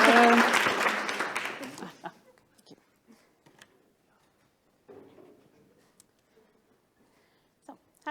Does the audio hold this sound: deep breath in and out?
no